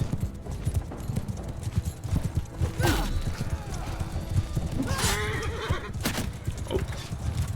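Horse neighs and galloping hoofbeats in the Mount and Blade Bannerlord video game, a battlefield with steady clip-clop under loud whinnies around the three- and five-second marks, with faint talk in the background.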